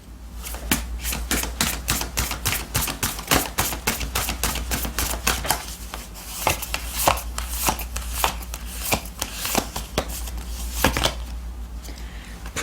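Tarot and oracle cards are shuffled by hand close up, making a long run of crisp, rapid snapping clicks in an uneven but steady rhythm with no talking.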